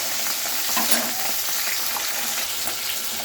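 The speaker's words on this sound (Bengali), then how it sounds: "এক পিঠে মাছটা ভাজা হয়ে গেছে একদম একটু মজমচে করে ভেজে নিলাম" A fish head frying in hot oil, a dense steady sizzle close up with a faint bubbling crackle, no voices.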